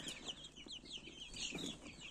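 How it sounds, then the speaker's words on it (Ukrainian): Quiet, rapid high-pitched cheeping of many chicks, overlapping peeps with no pause. "Є старші курчатка, є менші курчатка."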